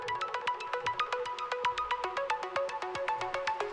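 A pitched synthesizer preset called Fanatica by June plays a fast, bright arpeggiated pattern of short plucked notes that repeat in a steady rhythm and step between pitches, heard alone, clear and close.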